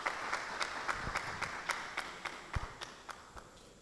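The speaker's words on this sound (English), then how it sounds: "A round of applause, please." Faint, evenly paced clapping from an audience at a community gathering, the claps falling in a steady, almost rhythmic beat over a low background hum.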